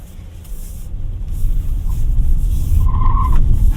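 A BYD Atto 3 electric car spinning its wheels, a steady loud rushing tire and road roar that builds and holds, with a brief thin squeal near the end.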